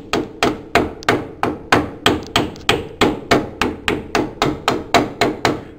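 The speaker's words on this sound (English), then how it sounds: "You just take the hammer and beat that cap on" A hammer beats a hub cap onto a Cub Cadet 1650 spindle in a fast, steady series of about twenty sharp, ringing metal blows, loud and close with no talking.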